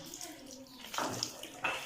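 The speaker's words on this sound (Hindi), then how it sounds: "थोड़ा सा खुश्क है, इसके अंदर पानी डालूँ।" Water splashes and pours in short bursts into chicken pakora batter, close by, with faint voices in the background.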